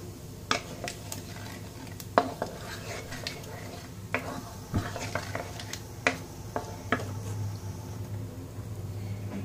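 Cumin and nigella seeds roast in hot oil in a pan, a soft steady sizzle under scattered sharp clinks and scrapes of a spoon against the pan.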